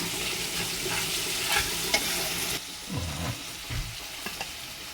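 Chopped onions with salt fry in a hot pan for a Bengali fish dish, a steady bright sizzle broken by a few scraping stirs of the spatula partway through, close and with no talking.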